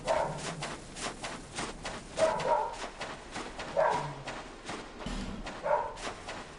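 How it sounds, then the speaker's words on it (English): A dog barks indoors in repeated short bursts, about once per second or so, fairly close in the room against a quiet background. "Again, so sorry about the noise, just the dog is on one today."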